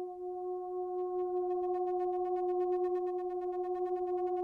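Heated steel pipes howling as air rises through them, producing sustained steady tones at several pitches with a slight oscillating waver, loud and continuous throughout with no talking.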